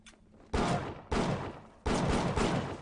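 Pistol shots from a handgun in the first-person shooter Bioshock, three to four loud, sharp blasts in an uneven sequence, each with a short decaying tail, with no talk over them.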